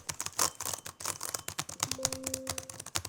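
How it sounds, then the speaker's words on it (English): Rapid clicky keystrokes on a laptop's built-in mechanical keyboard with Cherry MX switches, a dense, uneven run of sharp taps close to the mic, with a faint tonal whine briefly underneath. "This actually has the best tactile mechanical keyboard that I've used on a laptop, period."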